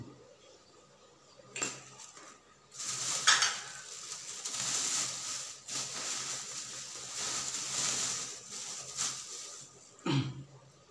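A spoon clinks and scrapes around inside a cup of coffee, with bursts of stirring and a few sharper taps against the rim.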